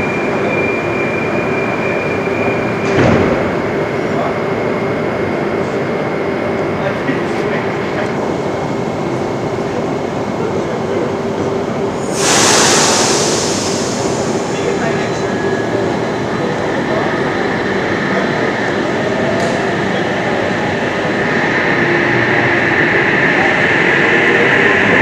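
Passenger train cars on a Wollongong via Willow Creek service passing close by, a steady loud rumble with wheel rattles, a brief hiss and faint squeals, and a voice heard speaking over it.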